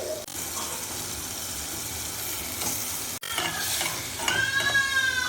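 Fish fries in a pan, giving a continuous close sizzle and crackle with stirring, brightening into sharper spitting near the end.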